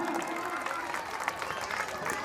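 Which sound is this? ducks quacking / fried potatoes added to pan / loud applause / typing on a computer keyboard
loud applause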